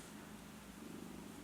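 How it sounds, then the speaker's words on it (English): A cat purrs close by, a soft, continuous low rumble at very low volume, with no voices over it. "my cat's sitting right behind me and he's purring like crazy"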